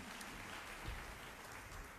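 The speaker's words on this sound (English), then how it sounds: "I implore people not to applaud anything I might say" Audience applause at a panel discussion on American power, a dense, steady wash of clapping from a crowd, fairly faint and continuous throughout with no voices over it.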